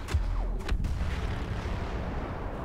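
Weapon fire in the video game Star Wars Battlefront, during a Walker Assault match: a few sharp, close blasts at the start, then a dense, rumbling barrage of booms that carries on steadily.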